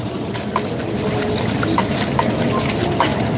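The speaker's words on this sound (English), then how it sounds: "Give it a nice whisk." Whisking a mixture of honey and olive oil in a bowl in a working kitchen, a steady close scraping and stirring swish with faint rhythmic ticks of the whisk against the bowl.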